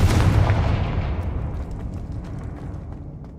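A Confringo fire-blast spell in Hogwarts Legacy: a loud booming explosion right at the start, then a long rumbling decay with scattered crackles fading away over a few seconds.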